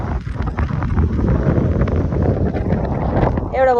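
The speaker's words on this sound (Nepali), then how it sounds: "यस्तो हावा चलिरहेछ, बोलेको पनि सुनिरहेको छैन होला" Strong wind buffets the microphone outside the BAPS Hindu Mandir in Abu Dhabi, a loud continuous low rumble with gusty swells and no clear speech.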